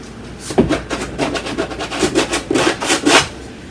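A kitchen spatula spreads and scrapes paint across an abstract painting, giving a run of short rasping strokes in an uneven rhythm, close up with no talking.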